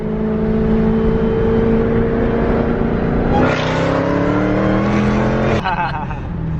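Nissan GT-R pulling hard in third gear from a 50 mph roll, engine note climbing steadily and loudly up the rev range before a sharp shift near the end, with a voice talking over it.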